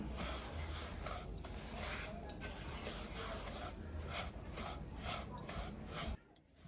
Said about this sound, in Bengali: সুজি দিয়ে ঘিয়ের সাথে হালকা ভেজে নিব